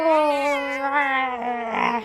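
A single drawn-out meow, close and fairly loud, wavering in pitch as it fades.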